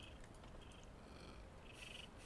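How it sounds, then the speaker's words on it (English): A cat purrs softly and continuously, faint and close, with a few light higher sounds on top. "I don't know if you could actually hear him just purring there"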